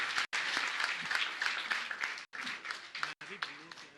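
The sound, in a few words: audience applause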